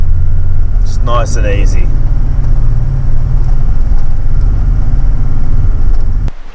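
A 4WD engine climbs hills in third gear, low range, at about 1,500 to 2,000 RPM, a loud steady low rumble filling the cabin, with a brief spoken remark early on and a sharp click near the end.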